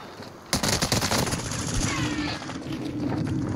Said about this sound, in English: Is that them shooting at you?